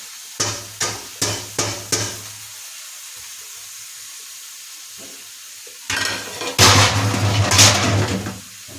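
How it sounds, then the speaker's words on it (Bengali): Boiled young jackfruit goes into a pan of fried spice masala: a few quick clinks of a spatula against the pan, a quiet pause, then a loud, steady sizzle and frying hiss as the pieces are stirred in. "এবার আমি সেদ্ধ করাই ইঁচড় দেবো"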